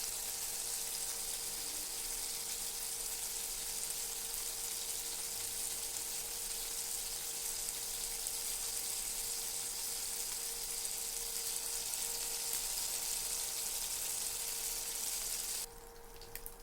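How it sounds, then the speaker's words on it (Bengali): Fish fried in hot oil in a pan with a continuous, even sizzle and hiss that holds steady for the whole stretch before abruptly dropping off near the end. "এখন মাছগুলো ভালো করে ভেজে নিব।"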